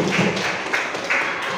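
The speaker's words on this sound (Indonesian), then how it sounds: "tepuk tangan dulu semua." Classroom students clap their hands together, a busy wash of many claps with a few louder rhythmic beats, close and fairly loud.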